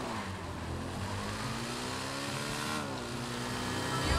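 Nagasaki BF400 motorcycle engine in GTA V Online, a steady, loud droning hum with rising and falling pitch as it revs, running continuously with no talk.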